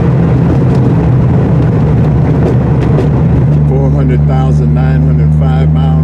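An old Triumph TR6 with a 53-year-old, high-mileage engine drones steadily while driving, a loud low hum running throughout, with wind and road noise on top and a voice talking over it in the second half.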